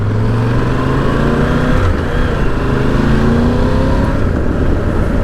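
A Triumph Tiger 1200 GT Pro motorcycle pulls away, its engine rising in pitch through a couple of gear changes under steady wind rush, loud and close throughout.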